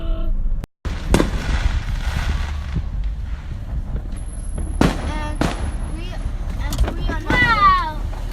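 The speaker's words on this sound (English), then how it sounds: "We're trying to get straight to the house so that we don't have to hear any more fireworks" Fireworks bursting during a July 4th night, sharp cracks and pops scattered across the scene, some close and loud, over steady traffic rumble from a cab ride, with people talking throughout.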